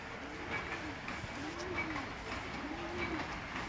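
Teddy pigeons coo in three slow, rolling phrases, a soft repeated call that rises and falls at close range over a faint background hiss.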